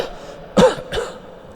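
A man's harsh, close cough, two sharp throaty bursts about half a second apart, the first louder than the second, against a quiet background.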